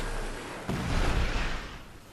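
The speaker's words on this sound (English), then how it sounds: "Good explosion though." A video game explosion in Monkey Island Special Edition: a sudden muffled boom that swells into a rumbling roar, then fades away over about a second and a half.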